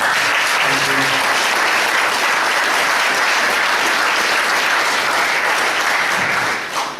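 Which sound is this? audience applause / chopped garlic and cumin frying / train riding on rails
audience applause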